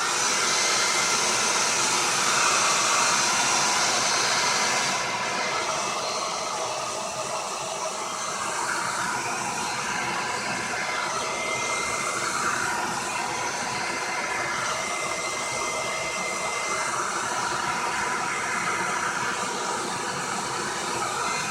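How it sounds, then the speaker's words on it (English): A hair dryer blows steadily on the painted cover of an altered book, a loud continuous broadband whoosh that runs the whole time, easing slightly in level after the first few seconds. "I can blow dry that."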